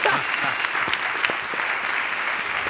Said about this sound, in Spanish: Un aplauso para el de Soria